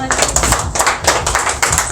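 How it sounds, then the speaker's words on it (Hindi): Loud, close clapping at a corporate Women's Day celebration during a memento presentation, with distinct uneven bursts of hands striking, a few individual claps standing out over a small group's applause. "जोरदार तालियां"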